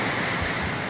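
Big ocean waves crash and surge around a treehouse as the tide climbs, a loud, dense, roaring wash with heavy wind buffeting on the microphone and no talking.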